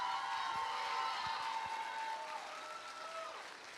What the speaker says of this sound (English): let's give Katie Olson a big round of applause